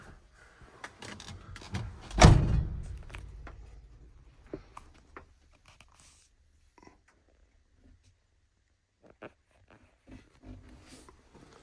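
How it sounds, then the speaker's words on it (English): A door on a 1970 Monte Carlo shuts with one solid, close thump about two seconds in, followed by a brief fading rumble, then near silence with a few faint small clicks. "We'll go ahead and close the door."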